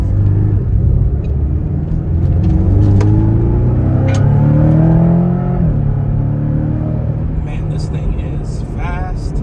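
A naturally aspirated six-cylinder sports car engine revs up and accelerates, pitch climbing through gears with a deep rumble, loud and close, easing off near the end.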